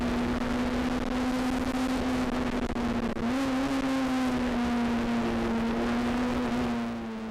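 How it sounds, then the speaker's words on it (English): On board a Honda race car at the 2007 Bathurst 12 Hour, the engine drones loud and steady at high revs, with a brief dip and pitch rise midway, then holds before easing slightly at the end. "let's have a listen to this Honda. It's a great noise."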